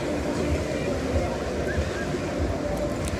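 Waves churning in a waterpark wave pool, a steady wash of water with a low rumbling roar, continuous and fairly faint, with muffled background activity.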